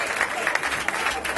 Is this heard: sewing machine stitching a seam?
no